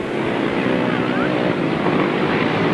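Grasstrack racing motorcycles at a 1993 Staplecross meeting roar flat out in a loud, continuous engine drone with wind buffeting, steady and close.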